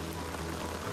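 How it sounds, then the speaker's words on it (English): Heavy rain falls steadily during a storm, a dense, even hiss of water close by with no break or pause and no voices. "It's raining even harder."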